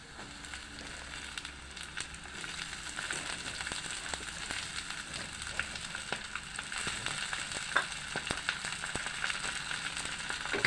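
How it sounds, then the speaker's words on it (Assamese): Puroi (Malabar spinach) dropped into sizzling ginger and garlic in hot oil, a steady close crackling fry with scattered sharp pops and light stirring, no talk. "এই আদা নহৰুখিনি ৰঙচুৱা হ'ল, এতিয়া মই পুৰৈ চব্জিখিনি দি দিছোঁ।"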